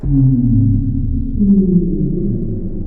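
A deep, droning synth tone from the Native Instruments Pharlight instrument, shaped by the mod wheel, swells and slowly glides, its low notes washing out into a long, cavernous reverberant tail.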